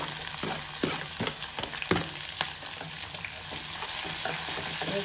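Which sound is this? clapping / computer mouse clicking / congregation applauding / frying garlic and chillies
frying garlic and chillies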